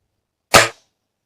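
A single sharp, loud test shot from either a .22 air rifle or a .22 Short firearm, one crisp crack that dies away quickly into silence.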